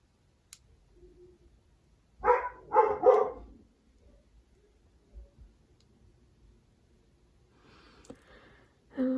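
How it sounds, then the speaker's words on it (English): Pet dogs indoors let out a few sharp barks in a quick cluster, then fall mostly quiet before some softer yips and a final bark, somewhat distant from the microphone. "My dogs."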